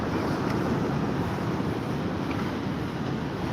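Sea waves washing against the promenade at Withernsea, a steady close roar of surf blended with wind buffeting the microphone, continuous and loud throughout with no talking.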